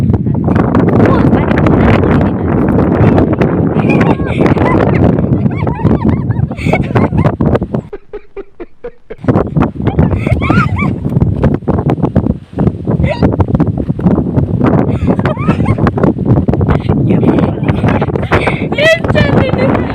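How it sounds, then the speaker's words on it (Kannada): Strong, gusty wind roars and buffets against the microphone almost without a break. A sudden lull near the middle lets it drop to near quiet before the blast returns, with voices talking faintly underneath. "ಕೊಂಚ ಗಾಳಿ ದೊಟ್ಟಿಗಿತ್ತು ಹೋತು"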